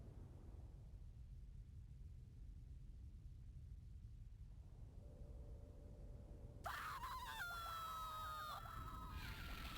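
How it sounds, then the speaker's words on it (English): A character screams in the 16-bit role-playing game Vay. The loud harmonic cry bursts in partway through, over a quiet rumbling background, with no talk. "Goated PJ scream there"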